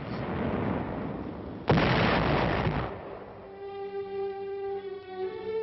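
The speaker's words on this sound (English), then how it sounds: "holding the 100 square miles of beachhead area with innumerable small infantry fights and tremendous artillery barrages." Artillery barrage at the World War II Anzio beachhead: a low rumbling bed gives way to a single loud, close blast, then a steady musical score rises as the roar fades.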